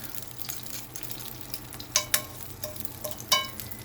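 Quiet low crackle and hiss of butter melting in a hot pan, with a few sharp sizzling pops standing out now and then.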